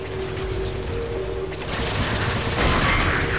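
Heavy turret gunfire in the Halo 4 Spartan Ops video game: a loud, dense, continuous stream of rapid shots that rumbles on for several seconds with no talking.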